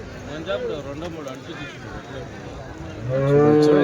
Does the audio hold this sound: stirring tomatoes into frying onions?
no